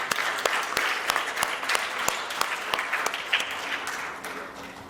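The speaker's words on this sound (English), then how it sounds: "a big round of applause for Jatin and his team once again" Scattered applause at a Rotary Club installation ceremony, with distinct individual claps standing out over a softer bed of clapping that tapers off toward the end.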